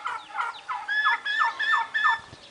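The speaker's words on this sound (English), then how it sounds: "See, we got some turkeys." Turkeys gobbling at a farmyard enclosure near a chicken coop: a run of loud, close, rapid warbling gobbles repeated several times in quick succession, with no talk.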